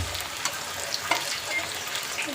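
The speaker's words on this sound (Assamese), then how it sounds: "মই ধুনীয়া কৰি পিঁয়াজখিনি লাল কৰি আছোঁ" Onions fry in oil in a pan, with a steady close sizzle and crackle that continues throughout. Occasional stirring scrapes and small pops break through it, and no one talks.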